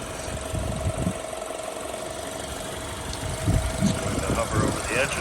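A 2015 BMW 228i coupe with a six-speed manual gearbox idles steadily up close, giving a low, even rumble with a faint constant hum and slight swells toward the end.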